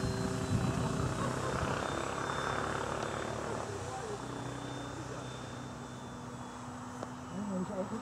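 Three Multiplex Funcub model airplanes flying together outdoors, a steady distant propeller drone with shifting whine under people talking nearby.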